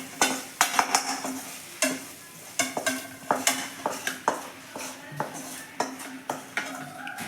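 Fried spice mixture being added to dal and stirred in a pot for Rajasthani dal baati: a rhythmic run of close metal spoon clinks and scrapes over a low sizzle, with no talking.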